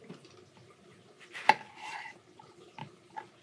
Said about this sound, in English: let's start by cutting a lemon in half